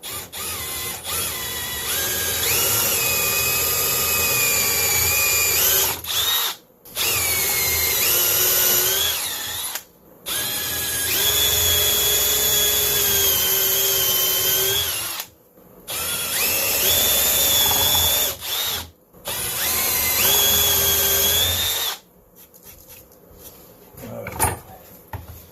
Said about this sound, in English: we're going to drill the holes to match the dowels on the bottom